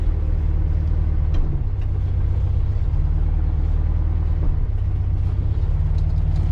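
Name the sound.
vintage air-cooled VW Beetle driving and parking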